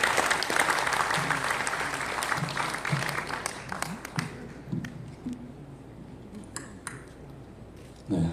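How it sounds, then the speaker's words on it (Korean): A church audience applauds to welcome a speaker to a special lecture, a full burst of clapping at the start that thins and fades over several seconds, with a few scattered claps and light knocks at the end. "나오실 때 특강이기 때문에 큰 박수로 환영해 주시기 바랍니다."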